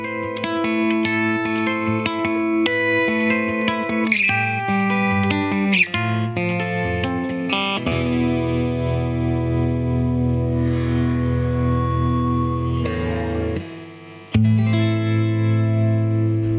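Bright, heavily compressed Rickenbacker electric guitar plays chiming arpeggiated chords with sustained notes, then a long held chord rings out before a final strum.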